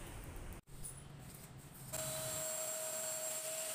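A vacuum cleaner motor runs with a steady whirring hum. A brief dropout comes first, then the motor switches to a higher, louder whine with a sustained tone partway through.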